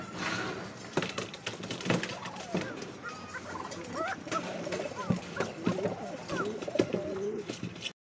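A pair of long-shape pigeons, one white and one black, coo repeatedly in soft throaty phrases at close range amid the murmur of a busy pigeon market, with faint voices in the background.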